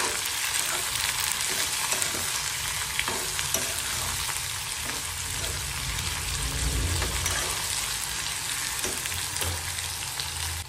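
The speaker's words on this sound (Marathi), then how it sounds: "गाजर, शिमला मिरची या सर्वांना चांगलं परतून घ्यायचं।" Carrots and bell peppers sautéing in a hot pan for egg fried rice, a steady close sizzle with occasional stirring scrapes running throughout, no voices.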